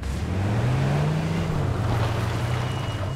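Vehicle engine in the H1Z1 video game, a steady low drone with a rising then gently falling pitch, fairly close and continuous throughout, with no talk over it.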